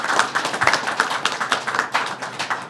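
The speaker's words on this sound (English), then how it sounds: "So let's give him a round of applause" Dense audience applause at a governor's storm briefing in Dutchess County, many hands clapping steadily and fairly close throughout, with no voices over it.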